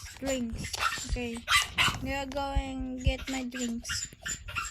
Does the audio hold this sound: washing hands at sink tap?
no